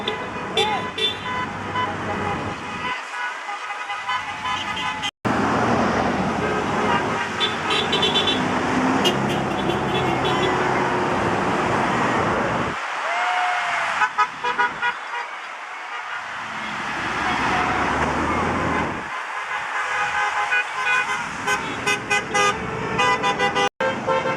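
Road traffic rolls past at a No Kings protest in West Springfield, with repeated car horn toots and honks rising over a loud, steady roadway wash while crowd voices talk nearby.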